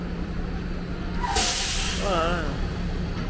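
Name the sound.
city buses in Boston, air brake hiss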